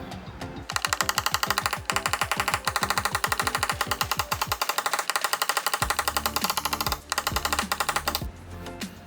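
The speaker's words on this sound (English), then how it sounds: "I'm gonna come in and use a knockdown and hammer and see what we can flatten out." Hammer and knockdown tool working a dent on a Mustang convertible quarter panel, a rapid run of sharp metallic taps in dense bursts, close and loud, with a brief pause midway.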